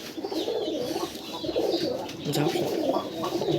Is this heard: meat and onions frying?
no